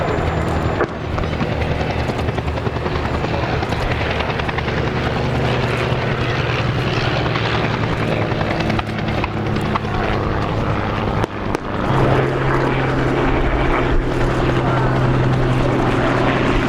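A Spitfire propeller engine drones loudly and continuously overhead at an air show, a steady rumbling roar with a deeper tone settling in toward the end.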